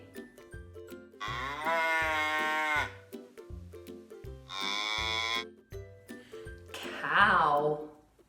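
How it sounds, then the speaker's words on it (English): A cow moos in two long, sustained calls over a simple farm-animal song backing, then gives a shorter, rougher bellow at the end. The calls are loud and close. "Cow."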